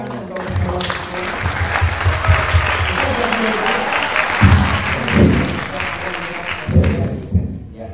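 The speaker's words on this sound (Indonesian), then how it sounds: "Kita berikan tepuk tangan untuk" Loud audience applause at a film screening event, dense clapping that swells and holds for several seconds with scattered thumps, then tapers off at the end.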